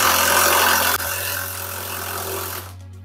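A Villager VLP 5720 cordless impact wrench with 400 Nm of torque runs loudly with a steady whirring buzz. It dips briefly near the first second, then cuts off sharply just before the end as the tool stops.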